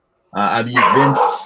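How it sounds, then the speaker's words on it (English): Indoor dog barking, a protective house dog letting out several sharp, loud barks close by, mixed with someone talking over them. "Sorry for the dog."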